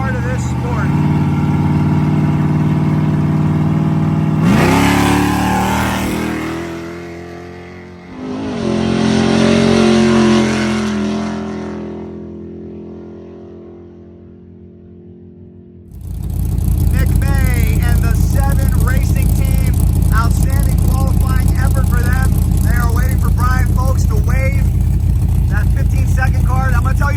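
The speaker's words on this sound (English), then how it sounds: "This is the rigid, narrow obstacle machine revving it up." An off-road race truck built for the Vegas-to-Reno desert race revs hard, its engine pitch rising and falling in bursts. A long, loud, sustained roar follows after a quieter gap.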